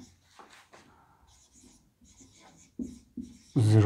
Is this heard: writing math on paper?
yes